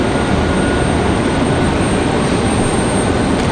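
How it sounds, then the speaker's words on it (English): McDonnell Douglas MD-11 engines at Raleigh-Durham airport give off a loud, dense, continuous roar that stays even throughout the short stretch without any voices. "I can hear the MD-11 already"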